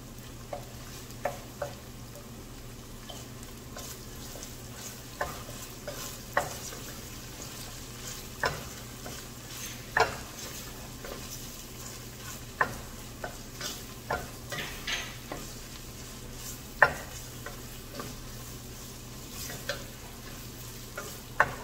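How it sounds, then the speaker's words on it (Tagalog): A sauce with tomato paste sautés in a pan until browned, a faint steady sizzle punctuated by regular clicks and scrapes of stirring every second or so. "Gisahin lang natin hanggang sa mag-brown ng konti."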